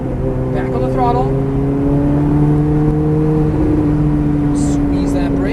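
A Ferrari F430 accelerates on a track, its engine note rising steadily in pitch from inside the car while an instructor talks over it throughout.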